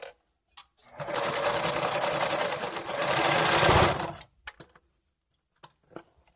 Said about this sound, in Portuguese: O zigue-zague que a gente costurou agora.